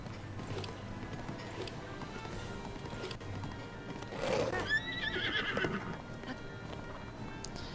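Horse in Zelda: Breath of the Wild gives one clear, close neigh with steady clip-clop of hooves running under it, against faint game ambience and no talk.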